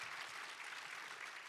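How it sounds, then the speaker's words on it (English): Brief, quiet applause from a conference audience, a soft continuous patter of many hands with no distinct claps standing out. "You can clap."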